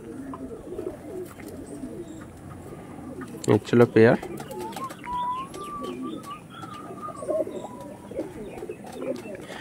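Pulsar breed pigeons, a male and female pair, coo softly in a low murmur, while someone talks over them and a brief louder clatter breaks in midway.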